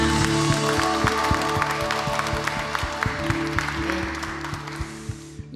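Congregation clapping during a Thursday evening worship service in a church, a dense wash of applause over a sustained musical backdrop.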